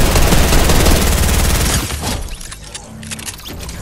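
Rapid, loud video-game gunfire with dense, crackling bursts strikes a player from behind, then drops to scattered, quieter shots and debris.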